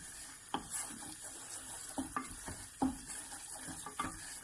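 A utensil scrapes and stirs a flour roux for cheese sauce around a pan, with soft irregular scraping taps over a gentle sizzle, close and fairly quiet.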